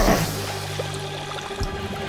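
A pink bath bomb drops into a cauldron of water, giving a short splash and a steady fizzing pour-like wash over about two seconds, close and moderately loud, with faint sustained tones underneath.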